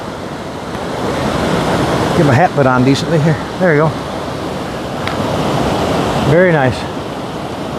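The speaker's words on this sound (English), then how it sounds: "by this little cascade, little falls, and nice and calm right there, but it comes down here and starts rolling down there" A small cascade beside the Appalachian Trail gives a steady rushing wash of falling water that runs throughout, with someone talking over it at close range.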